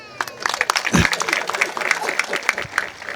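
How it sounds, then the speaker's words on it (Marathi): Audience applause at a Marathi devotional kirtan gathering, a dense wash of many hands clapping steadily throughout, fairly loud and close, with faint voices mixed in. "जोरदार टाळी झाली पाहिजे."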